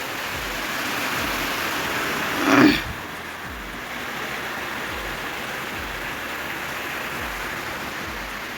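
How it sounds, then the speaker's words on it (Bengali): Heavy monsoon-style rain pours down in a steady, unbroken hiss at moderate loudness, with one brief louder splash or knock early on before the downpour continues evenly. "একবারে প্রচুর বৃষ্টি"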